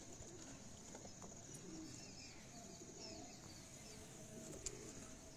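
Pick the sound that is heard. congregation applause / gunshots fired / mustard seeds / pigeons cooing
pigeons cooing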